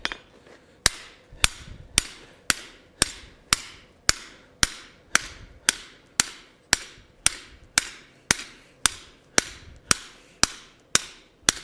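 A hammer strikes a forged gate fuller die about twenty times in an even, unhurried rhythm. Each sharp, ringing metallic blow is loud and close and fades quickly before the next.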